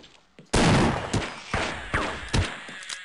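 Loud gunshot in the first-person shooter Half-Life, a sharp close blast followed by several further punchy shots and thuds at irregular intervals, with no speech over them.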